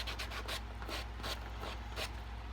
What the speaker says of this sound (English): using that hard side, and sanding it